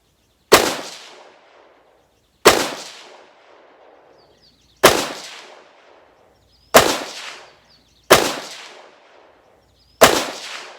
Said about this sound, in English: Five shots, guys.